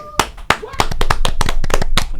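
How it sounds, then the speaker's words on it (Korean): People in a Korean live news broadcast studio clap their hands, with a few sharp claps at first swelling into steady, dense applause, while voices are heard underneath. "박수 치시면서 와와 이런 것도 해주셨네요."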